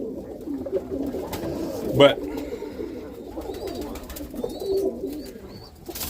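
Roller pigeons cooing inside a loft, soft repeated low coos close by with a few faint higher chirps, while someone talks over them throughout.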